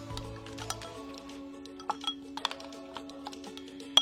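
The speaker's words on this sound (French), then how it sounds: "Je mélange." Vinaigrette being stirred in a bowl, with small clinks of a utensil against the dish scattered irregularly over a quiet background, a few sharper taps standing out.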